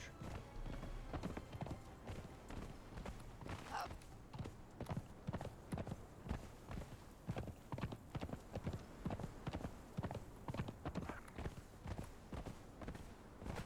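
A horse's hooves clip-clop in a brisk, regular rhythm while it is ridden in the video game Conan Exiles, fairly quiet but continuous throughout.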